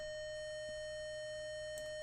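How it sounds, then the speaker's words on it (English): A steady additive-synthesis tone in Harmor starts as a pure sine and grows toward a square wave, holding a constant buzzy pitch with stacked harmonics throughout. "there's a sine wave in the beginning, and then the more we add it, it becomes more and more like a square"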